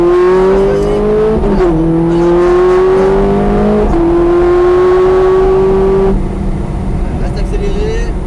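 Ferrari F430 Scuderia engine revving hard on a race track, heard from inside the car, its sharp tone climbing through each gear with quick pauses at the shifts, loud and close beneath someone talking.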